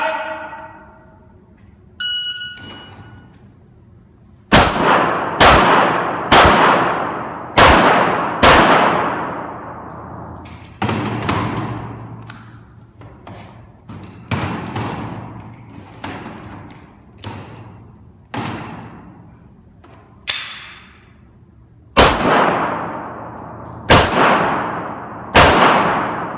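Pistol shots at a dynamic shooting sport stage, a dozen sharp near cracks in irregular bursts, several followed by ringing clangs of steel targets, opened by a short electronic start beep.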